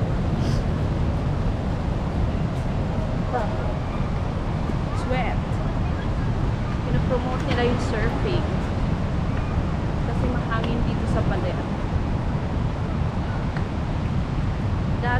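Strong wind buffets the microphone on a surf beach at Baler, Aurora, a constant roaring rumble over crashing waves while people talk.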